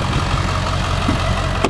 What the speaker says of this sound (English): This is a clean running diesel too.